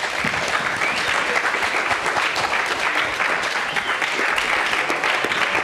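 Sustained applause from a lecture hall audience at a UCLA sustainable living class, dense steady clapping from many hands, fairly loud and continuous throughout.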